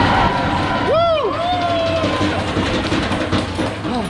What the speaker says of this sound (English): And that's the cheer club over there